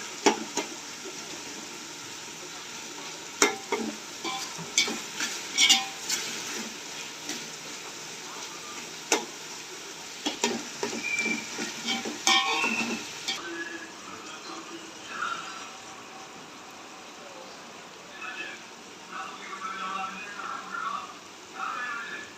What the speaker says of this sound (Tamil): இப்போ நம்ம வெங்காயம் போடுறோம். வெங்காயம் சீக்கிரம் வேக நம்ம உப்பு சேர்த்துக்கிறோம்